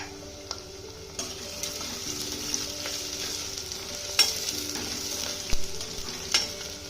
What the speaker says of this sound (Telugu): వీటిని బాగా బ్రౌన్ కలర్ వచ్చేంత వరకు ఫ్రై చేసుకోవాలి రెండు పచ్చిమిర్చి ఇలా కట్ చేసి వేసుకోవాలి